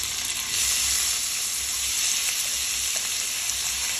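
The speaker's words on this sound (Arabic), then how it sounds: "هنبتدي ننزل بالفراخ بتاعتنا نعمل لها تشوك صدمه" Chicken pieces sear in a deep pan with a constant, loud, hissing sizzle of hot oil, steady and close throughout, with faint low bumps of the pan underneath and no talk.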